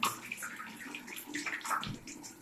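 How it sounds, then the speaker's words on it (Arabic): A tap runs steadily during handwashing, a soft, faint, continuous splash of water with slight gurgling and no speech. "غسل إيدينا"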